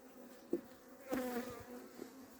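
Honeybees buzz around a hive being closed up at an apiary, a soft, steady drone of many insects with a few brief nearby wingbeat swells and faint knocks.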